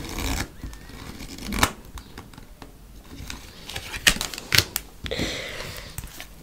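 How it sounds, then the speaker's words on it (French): Tarot cards laid out one by one on a table, giving soft papery slaps and shuffling flicks, with a few sharper snaps, close and fairly quiet. "je mets toutes les cartes, il y en a quand même pas mal"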